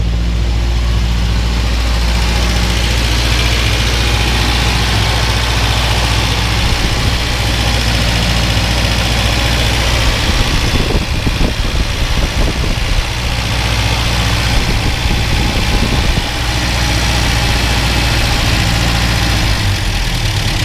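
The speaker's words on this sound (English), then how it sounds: "So that's a fresh cold start. Started right up." A 1966 MG MGB Roadster engine idles steadily just after a cold start, loud and close, with a continuous low rumble and faint mechanical vibration throughout.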